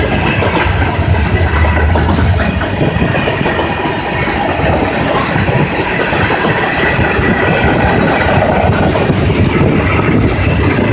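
A long CSX mixed manifest freight train rumbles past close by, wheels clattering rhythmically over the rails with a continuous heavy roar and occasional metallic squeal.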